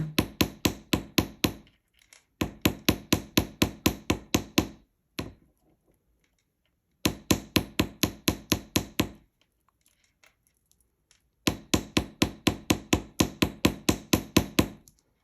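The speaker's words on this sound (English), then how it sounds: "we're just kind of lightly tapping it right now, hardening the wire" Light hammer taps on wire earring hoops to work-harden the metal, sounding as quick, evenly spaced bursts of sharp metallic ticks in four separate runs, close and clear, with short silent pauses between them.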